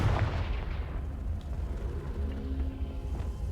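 Confringo spell blast in Hogwarts Legacy, a booming explosive burst at the start followed by a rumbling decay and low crackling tail, fairly loud and alone.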